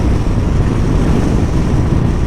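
A new 2023 Yamaha FJR1300 ES touring motorcycle is under way, giving a loud, constant low drone of engine and wind rush with no pauses or speech.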